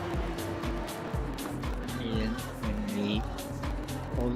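A Porsche 991 RSR race car in a sim racing game revs hard, with rising and falling engine notes and gear shifts, moderately loud under a commentator talking throughout.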